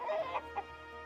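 A chicken in the roguelite dungeon crawler Dungeonmans gives two or three quick clucks, short and fairly quiet over a steady hum of game background sound.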